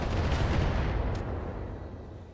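Heavy supporting gunfire and artillery from mech combat in the video game BattleTech, a dense continuous roar of overlapping shots and blasts, loud and steady, fading slightly toward the end.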